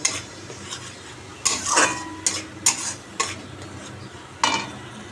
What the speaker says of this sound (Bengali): সব একসাথে দিয়ে দিলাম হলুদ নুন জিরের গুঁড়ো সব দিয়ে এবার কষাবো মশলাটা ভালো করে কষাবো